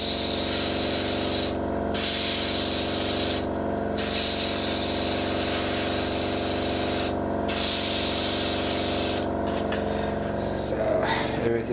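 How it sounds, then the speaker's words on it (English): An airbrush hisses in long steady bursts with short pauses between, a close continuous spray over a compressor's hum, while painting a 1:48 Revell F-15E Strike Eagle model. "Now I can quickly start spray painting it"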